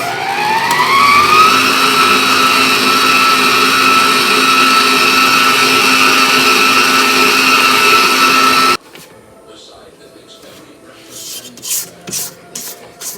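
Chocolate pound cake batter being mixed with sour cream, an electric mixer whirring in a steady loud drone that stops abruptly, leaving quieter scraping and clatter from the bowl.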